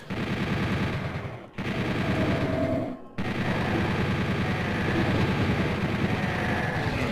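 In the video game Doom 64 EX, shotgun enemies fire in dense, continuous bursts of gunfire, loud and sustained, with two brief dips in the barrage.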